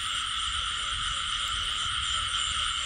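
Frogs croak in a dense, steady chorus after heavy rain in a rural Mekong Delta field at night, a continuous layered trilling mix with no talk.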